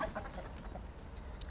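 Farm chickens cluck softly at a distance over a low background rumble, with a few brief calls in a short stretch.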